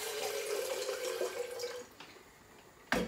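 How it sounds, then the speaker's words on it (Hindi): Water is poured in a steady, close stream into the bottom of a puttu steamer pot for a Kerala-style breakfast, its pitch holding briefly before it tapers off, ending with a sharp knock. "पहले क्या करना है, ये नीचे का है ना, इसमें पानी डालना है।"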